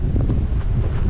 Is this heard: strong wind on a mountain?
yes